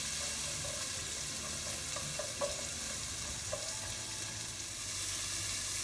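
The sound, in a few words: peppers and carrots frying in a pan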